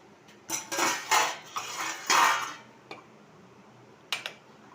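A spoon stirs boiled buttermilk into sama millet in a metal pot, producing several close scraping sweeps and light clinks in clusters, followed by quiet and one last short clatter.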